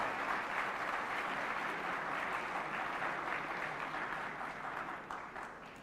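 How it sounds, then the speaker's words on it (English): An audience at an IIT Delhi open house applauds, a broad steady wash of clapping from many hands that holds even and then begins to fade toward the end. "So a big round of applause for him."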